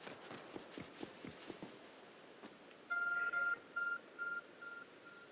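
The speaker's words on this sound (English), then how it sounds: "There's a glowing beeping object over there." A glowing phone-like object in Pokemon Legends: Arceus emits a series of short electronic beeps, four or five evenly spaced bright tones following quick running footsteps in the game.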